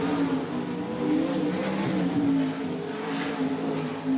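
A speedway race car runs a qualifying lap at a speedway meeting, its engine a steady distant drone that rises and falls slightly as it circles the track, with no voices.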